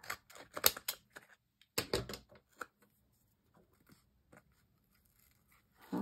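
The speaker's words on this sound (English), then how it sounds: "So we're just going to use my scissors again." Scissors snipping paper while trimming pages of an altered book being turned into a junk journal, with a few close, crisp cuts clustered early, then quieter scattered snips and light paper handling.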